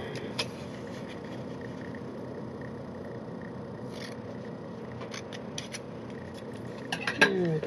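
Scissors snip through paper while trimming a folded bookmark bellyband, a few sharp cuts scattered over quiet room tone, with a brief cluster of quick snips near the end.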